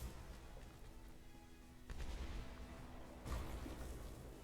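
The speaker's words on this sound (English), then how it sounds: "Cannons, fire at will." Airship cannons fire in the video game Airship Kingdoms Adrift, giving two separate low, rumbling booms about a second and a half apart over a steady, quiet background hum.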